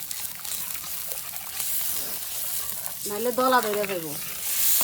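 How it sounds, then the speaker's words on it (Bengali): Mashkalai dal with bottle gourd being stirred in a pan over the heat, a steady close sizzle with spoon scraping, and a voice speaking over it in the last second or two. "লাড়বেন আর দিবেন"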